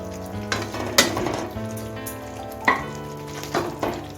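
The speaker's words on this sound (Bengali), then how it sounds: "এখন আমি আগে থেকে বেজে রাখা এই বলসগুলো দিয়ে দিচ্ছি" Pre-fried chicken kofta balls dropped into a pan of simmering yogurt gravy, a low bubbling sizzle broken by a few distinct thuds and clinks of a spoon against the pan, close by.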